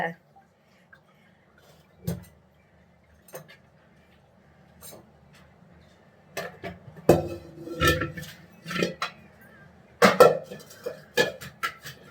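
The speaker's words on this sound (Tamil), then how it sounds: "டம்மு டம்முன்னு பாத்திரம் சத்தம் கேட்குதா உங்களுக்கு" Intermittent clanks and clatters of metal pots and vessels in a kitchen being cleaned, sparse at first then busier, with scattered bangs over a low background hum.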